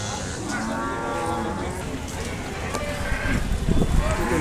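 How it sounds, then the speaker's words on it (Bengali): A local cow moos, drawn out and fairly close, amid a noisy outdoor cattle market backdrop of clatter and indistinct murmuring. "একটা গরু দেখতেছেন, দেশি গরু একেবারে।"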